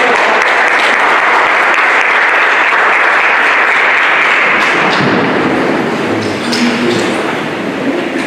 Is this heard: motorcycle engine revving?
no